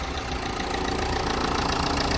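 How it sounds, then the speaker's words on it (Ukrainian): A car engine idles steadily after a wash at a self-service car wash, a close, even, rumbling drone heard on its own. "Трактор працює,"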